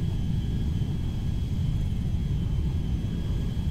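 An Airbus A310-300 jet climbing out after takeoff in a modded flight, with a steady low engine roar and rumble, loud and unbroken throughout.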